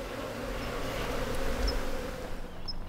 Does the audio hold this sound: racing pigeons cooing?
no